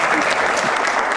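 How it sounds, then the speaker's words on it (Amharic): Brief, loud burst of studio audience clapping after a correct quiz answer on a game show, dense and continuous for about a second. "አጨብጭቡለት።"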